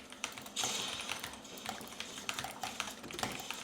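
Rapid, light clicking of keys on a fast gaming keyboard, compared to an Apex Pro, with quick irregular taps close by and fairly quiet throughout.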